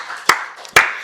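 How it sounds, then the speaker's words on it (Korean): Two sharp bursts of hand clapping from a church congregation during a Wednesday worship service, spaced about half a second apart, crisp and fairly close, with a soft room wash between them. "박수를 우리 하나님께 영광 드리겠습니다"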